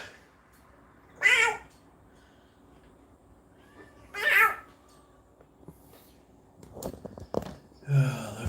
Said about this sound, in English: Why don't you have a normal meow?